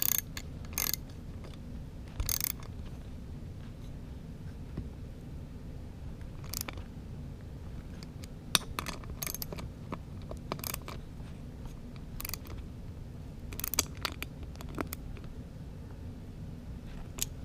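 Mechanical clicking from a ratchet tightening bolts on a 2013–2016 Genesis Coupe 3.8 transmission, in short bursts of quick clicks spread through the clip over a steady low background hum.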